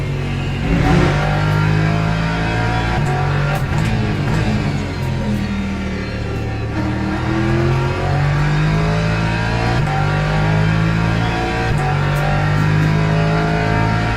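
A Lamborghini race car in the Le Mans Ultimate sim racing game, its engine loud and close as it revs and accelerates through shifting harmonic pitches, alone without talk.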